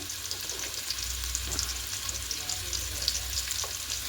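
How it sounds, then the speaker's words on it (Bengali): Potatoes fry in hot oil with ginger and green chilli for a cauliflower and potato curry, an even, close crackling sizzle holding steady throughout. "আলুগুলো একটু হালকা লাল করে ভেজে দেবো"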